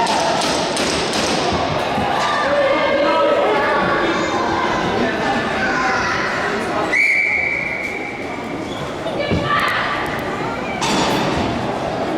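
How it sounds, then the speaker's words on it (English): A referee's whistle gives one sustained, piercing blast midway through a box lacrosse bronze medal game at the Six Nations Confederacy Cup. It sounds over arena crowd noise, thuds and an announcer's commentary. "we got a whistle and a penalty coming up."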